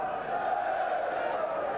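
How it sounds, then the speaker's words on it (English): Steady roar of a large football crowd at a 1993-94 Premier League match between Sheffield Wednesday and Manchester United, a continuous even wash of cheering with no distinct peaks, heard from a distance. "Every pass greeted with a loud cheer."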